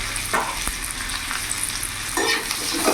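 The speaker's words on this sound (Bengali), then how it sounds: "এই লম্বা লম্বা কেটে রাখা আলুগুলো ভেজে নেব" Long-cut potato strips with a little salt and turmeric fry in oil, making a loud, steady sizzle close by with occasional stirring scrapes and bubbling bursts and no talking.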